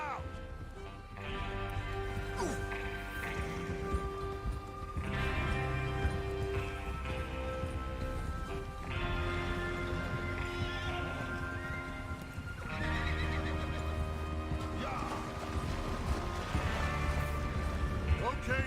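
Horses in the video game Red Dead Redemption whinny loudly several times, with clip-clopping hooves between the calls and a voice speaking over them.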